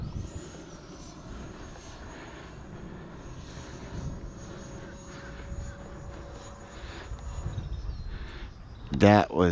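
An E-flite Viper 90mm electric ducted-fan RC jet flies overhead with a steady whining rush that swells and fades, faint to moderate, with voices talking nearby and a sharp burst of louder sound at the very end.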